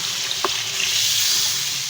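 Water poured into a pot of fried masala and beef for nihari sets off a loud, steady sizzling hiss that carries on without a break.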